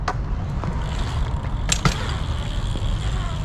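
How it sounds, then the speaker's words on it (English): A bicycle's front tire gives a small sharp tick as it touches down first on a skatepark surface, one brief click standing out against steady rolling and outdoor background noise. "You hear that little tick my front tire hit first?"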